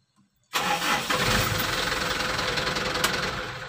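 A Mitsubishi Canter 125 Super Speed truck engine cranks and fires up, a sudden loud start that settles into a steady, rough diesel running close by, with no talk.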